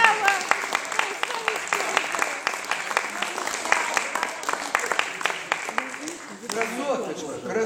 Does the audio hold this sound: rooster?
no